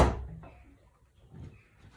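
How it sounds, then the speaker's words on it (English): A single door swings shut with a solid thump at the start, followed by a faint rattle and soft knock as it settles, indoors with wind blowing outside. "I have to close the door"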